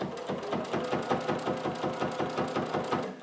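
A sewing machine runs steadily while stitching quilt binding, with a fast, even mechanical chatter of needle strokes that is close and continuous, with no pauses.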